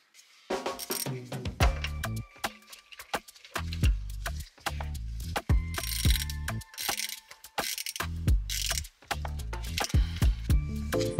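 A ratchet works a differential plug bolt on a Toyota Tacoma, clicking in quick bursts separated by short pauses, close and fairly loud, with faint metallic handling between strokes.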